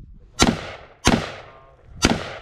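Three sharp rifle shots at roughly evenly spaced intervals on an outdoor shooting range during a Mozambique drill, each a hard crack with a decaying ring-out, loud and close.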